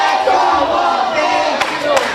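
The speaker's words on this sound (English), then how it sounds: "And you hear the crowd getting behind Wolfie D, Jason James right here at the sawmill." Crowd roaring and cheering for a wrestler at a small indoor pro wrestling show in a sawmill venue, a steady loud swell of voices with a couple of sharp impacts near the end.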